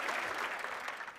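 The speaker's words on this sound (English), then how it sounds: "Big round of applause" Dense, steady applause from a keynote audience, many hands clapping together at full volume without a break and no voices standing out.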